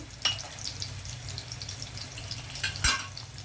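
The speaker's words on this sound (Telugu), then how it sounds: "ఇవి కొంచెం వేగేటప్పుడే మనం జీలకర్ర ఆవాలు వేసేద్దాం" Bitter gourd fries in a pan with cumin and mustard seeds and garlic, giving a quiet, steady sizzle with a few sharp pops and spoon clicks, close by, no voices.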